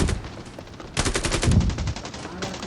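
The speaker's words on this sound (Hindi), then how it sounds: "सामने देखो फायर कितना गंदा आता है" Gunfire in the battle royale game Scarfall 2.0: rapid automatic bursts rattle loudly and close, with a denser volley in the middle, and a voice speaks briefly.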